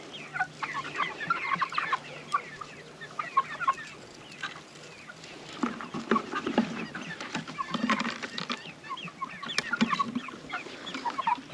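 A flock of backyard chickens clucks and murmurs steadily nearby, overlapping soft calls and chatter continuing throughout with a few louder squawks.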